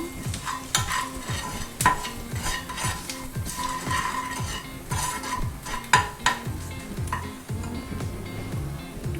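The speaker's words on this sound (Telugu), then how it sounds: "కొంచెం కొరియాండర్ లీవ్స్ వేసి బాగా మిక్స్ చేసేసుకుందాము." Samosa filling of spiced potato and sweet corn with chilli powder and coriander leaves being stirred in a pan, a steady scraping and clinking of spoon against metal with a soft sizzle underneath, continuous and close.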